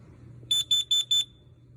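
A smoke alarm under test gives four short, loud, high-pitched beeps in an even rhythm, each cleanly separated, over a quiet room hum.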